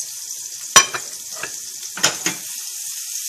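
Shrimp frying in olive oil in a pan, a constant close hiss with a few sharp pops and stirring knocks as the pieces shift.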